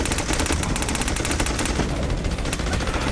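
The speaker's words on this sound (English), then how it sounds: "Deploying friggin' awesome ice bullets." Ice bullets fired in the video game Battleborn: loud, rapid automatic gunfire rattling in fast repeated bursts close up, with dense impacts and effects filling the whole moment.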